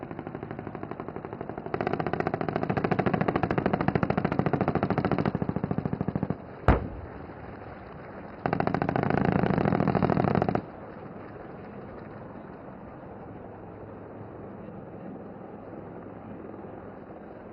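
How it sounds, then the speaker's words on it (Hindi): Rudra armed helicopter firing its weapons during an Indian Army exercise at Pokhran: two loud sustained bursts of rapid fire separated by a single sharp blast, then a steady rumble of rotor and engine noise. "ये आर्म्ड हेलीकॉप्टर हमारे मैकेनाइज्ड दस्तों के साथ एयर कैवलरी की तरह फायर सपोर्ट देता है"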